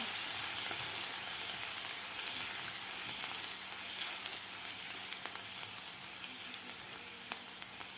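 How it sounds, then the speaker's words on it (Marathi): Crushed garlic sautés in hot oil, giving a steady, even sizzle and crackle with small pops, heard alone and moderately close. "घालायचं आपल्याला ठेचून घेतलेलं लसूण लसूण आपल्याला थोडासा परतून घ्यायचा आहे"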